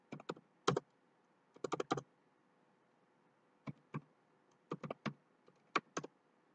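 Clicky keystrokes on a computer keyboard as a domain name is typed, coming in short bursts of a few quick taps separated by pauses, close and fairly quiet in an otherwise silent room.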